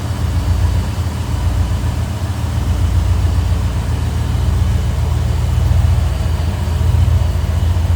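A 1989 Jeep Grand Wagoneer 4x4 engine idles smoothly, a loud, steady low rumble held close and unbroken for several seconds with no voices.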